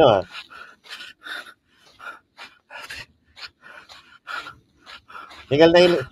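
A man out of breath near a lahar channel, panting in quick repeated ragged gasps, close and fairly loud, with a burst of voice at the end.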